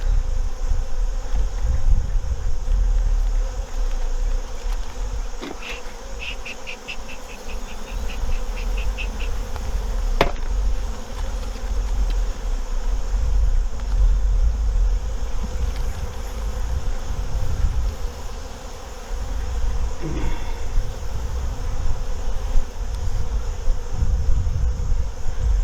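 Dense, steady buzzing of honeybees around an open hive during an August beehive inspection, close and continuous, with a few faint clicks and knocks of handling beneath.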